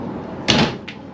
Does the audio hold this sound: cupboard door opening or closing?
yes